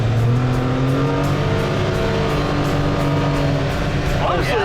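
Engine drone of a Polaris Ranger XD 1500 NorthStar side-by-side cruising around 40 mph, a steady smooth hum with rising revs before a shift, while people talk over it inside the cab.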